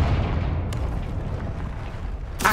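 A Confringo fire spell blast in Hogwarts Legacy, a broad rumbling explosive burst that fades into a low roar, with a sharp crackling hit near the end, no talk.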